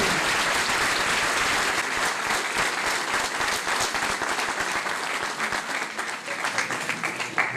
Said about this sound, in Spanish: Voy a pedir un fuerte, fuerte aplauso.